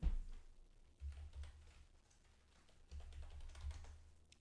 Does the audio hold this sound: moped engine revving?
no